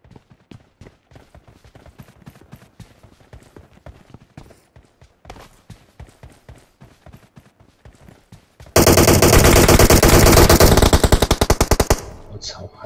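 Machine gun fire in a squad-based shooter video game: light rapid footstep-like taps and distant shots, then a loud, dense sustained automatic burst for about three seconds near the end.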